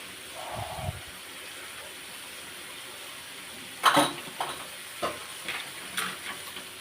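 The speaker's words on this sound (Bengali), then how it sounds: "তেজপাতাটা দিয়ে এখন একটুখানি নাড়িয়ে নিচ্ছে।" Bay leaves stirred in a frying pan, a low steady sizzle of hot oil with a few sharp scrapes and clinks of a spatula against the pan, close and moderately loud with no talk.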